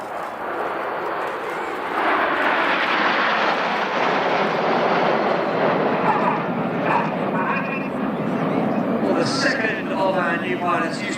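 A Eurofighter Typhoon jet at an airshow, trailing red and white smoke: a loud, sustained broadband roar that builds and holds throughout, with an announcer's voice over it.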